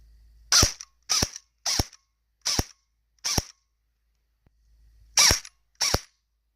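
JG MP5K A1 airsoft electric gun firing on semi-auto, seven sharp close snapping shots, five in an evenly spaced string, then a pause and two more.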